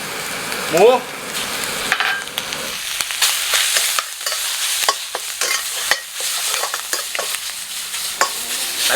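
Minced pork stir-frying in a hot pan with lard, a close, loud crackling sizzle broken by repeated scraping strokes of a spatula, with a brief voice near the start.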